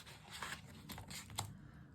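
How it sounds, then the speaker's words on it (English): Pens scribble and scratch on paper while colouring in, a faint, uneven rasping with a few sharper strokes and no talking. "Sorry about the noise, guys. It's these pesky pens."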